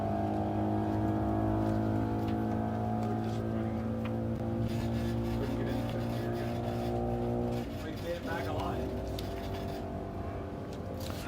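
A 257 cubic inch eight-cylinder Chevrolet V8 powers an E Gas Roadster racing across El Mirage dry lake, a steady droning engine tone that holds throughout and thins slightly near the end, with an announcer talking over it.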